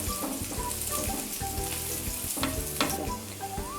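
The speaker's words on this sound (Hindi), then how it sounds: "सबसे पहले हम इसमें ऐड कर लेते हैं गार्लिक। चॉप गार्लिक है ये। दो से 3 मिनट तक हम इसको फ्राई कर लेते हैं।" Chopped garlic frying in hot oil, a continuous close sizzle at an even level over a few seconds, with faint tonal sounds in the background and no speech.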